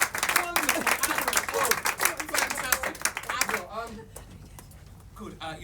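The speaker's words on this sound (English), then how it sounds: "A big round of applause for Avril." A theatre audience at an Elizabethan-themed show claps and applauds loudly, fading toward the end, while people talk over it.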